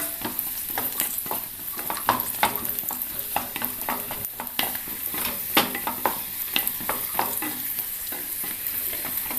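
Cashew nuts and raisins fry in oil over a low flame while a spoon stirs them, giving a steady close sizzle broken by frequent light scraping clicks against the pan.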